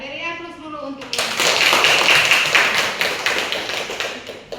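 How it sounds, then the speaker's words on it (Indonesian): Classroom of students applauding together, a burst of rapid clapping that starts abruptly after a teacher speaks and continues steadily, fairly close and loud. "Ya, beri aplaus dulu untuk ini."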